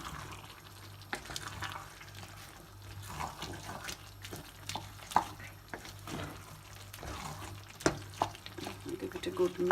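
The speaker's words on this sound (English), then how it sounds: "Give it a good mix and a good stir." A pot of food being stirred and mixed on the stove, giving soft scraping and sloshing over a low sizzle, with a few sharp utensil clinks against the pot side.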